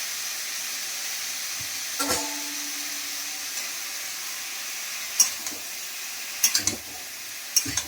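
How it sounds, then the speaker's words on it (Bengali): Snake gourd frying in a home kitchen pan, a soft steady sizzle and hiss running throughout, with a few brief clinks of a utensil against the pan near the end. "চিচিঙ্গে ভাজি একদম সেদ্ধ সেদ্ধ করবো।"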